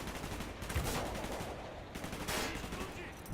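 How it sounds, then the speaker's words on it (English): Gunfire in a Vietnam War video game, dense bursts of rapid automatic shots and blasts crackling together in loud irregular volleys, with no talk over them. "Gunfire's drawing attention."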